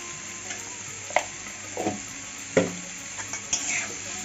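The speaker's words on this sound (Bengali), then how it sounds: "এঁচোড়টাকে একটু হালকা করে ভেজে নেব" Boiled young jackfruit lightly frying with a pinch of turmeric in leftover potato-frying oil, a steady soft sizzle broken by several spatula scrapes and stirs against the pan, close and moderately quiet, no talk.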